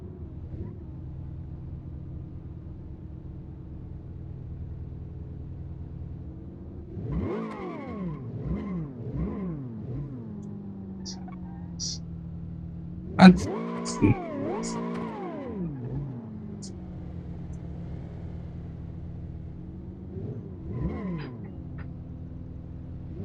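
A car driven around a parking lot for a steering lock test, its engine droning steadily and then revving up and down in several bursts with rising and falling pitch, plus a sharp knock midway; no talk.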